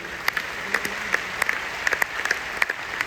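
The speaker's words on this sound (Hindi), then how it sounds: "तो कैसी ताली होनी चाहिए बताइए आप लोग" Crowd clapping at a large business gathering in Patna, a fairly steady patter of many hands with sharper individual claps popping out, sustained throughout.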